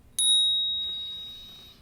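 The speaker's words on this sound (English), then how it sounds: "That bell, ding." A single bright bell ding rings out once as a sound effect, a clean metallic strike that sustains and slowly fades over nearly two seconds.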